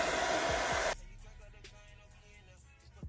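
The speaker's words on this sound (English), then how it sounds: "That's because I blow dried it before I put the thing on." A handheld hair dryer blowing on a wig during a lace melt, a loud steady rushing roar that cuts off abruptly after about a second, leaving quieter handling noises.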